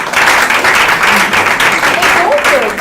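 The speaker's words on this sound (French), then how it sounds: "Applaudissez-les fortement." Audience applause at a school-end show, a dense, steady wash of clapping that fills the space from start to finish, with voices and a brief tonal sound mixed in near the end.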